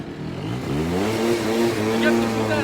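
A scooter engine revs up from idle into a rising, steady drone with shifting pitch, close and fairly loud, with a voice speaking over it.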